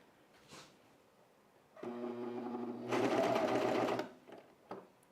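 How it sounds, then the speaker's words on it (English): A serger sewing machine stitches fabric for men's underwear in short whirring runs, with a brief burst, a pause, then a louder sustained run of about a second that stops abruptly, followed by faint sounds. "Is my serger too loud?"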